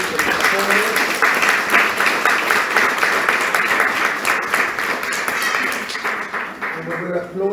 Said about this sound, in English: So let's give a round of applause for our children again.